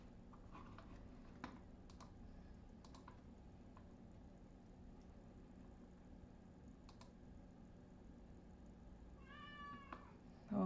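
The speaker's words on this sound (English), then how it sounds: "Oh boy, here goes the kitty again." A cat meows a couple of times near the end in a quiet room, brief rising calls over faint ticking and clicking, with a toy train village setup nearby.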